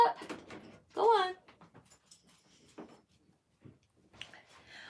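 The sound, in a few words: dog whimpering to be let out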